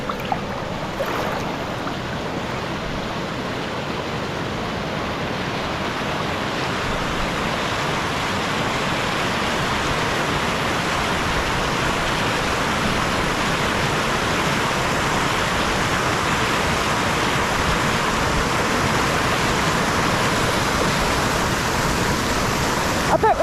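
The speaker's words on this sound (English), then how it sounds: "Fancy a trip over there for a quick look at the waterfall?" A steady, full roar of water pouring over a waterfall on Dartmoor, loud and close, unbroken for the whole stretch with no other sounds standing out.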